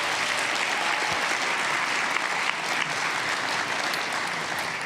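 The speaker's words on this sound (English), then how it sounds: "Let's give them all another big round of applause." An awards celebration audience gives a big round of applause, a sustained, full wash of many hands clapping in a large room, steady and loud for several seconds with no talking.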